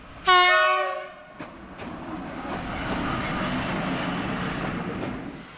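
A horn on a slow Polish intercity train (IC Nieśpieszny) blares once, loud and close, then the rumble and rattling of rail cars builds steadily as the train starts rolling.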